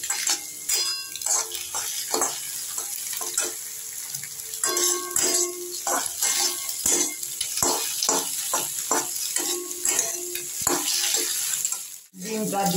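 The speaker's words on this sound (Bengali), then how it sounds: "আমি গ্যাসটা এখন লো ফ্লেমে করে ডিমটাকে এইভাবে নেড়ে" Egg is stirred and fried in a pan over a low gas flame while making village-style potol bhaja, with soft sizzling broken by frequent scraping and tapping strokes from the spatula.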